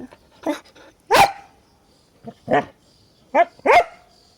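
A dog barks in close, loud separate bursts, about six barks with pauses between them and occasional growly edges, in an otherwise quiet indoor setting.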